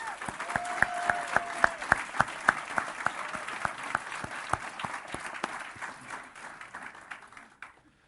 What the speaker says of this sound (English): Can we give one round of applause for all of our overall winners?